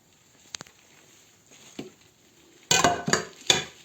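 A metal cooking pot clanks and scrapes a few times after quiet handling noises, the knocks louder and sharper toward the end.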